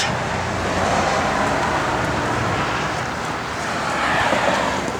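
A 1968 Cadillac DeVille convertible with fender skirts cruising, a steady broad rush of road and wind noise with a low engine hum, continuous and fairly even throughout.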